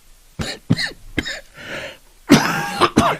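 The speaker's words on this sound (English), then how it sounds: "Says the man who can't stop coughing." Several harsh, close coughs in a ragged series, with short pauses and a rough breathy hack between bursts, no talking.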